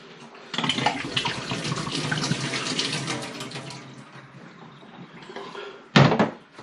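Water running from the tap of a Pinter home-brewing keg as it is drained, a close, steady splashing flow lasting several seconds, fading, then ending in a sharp clunk.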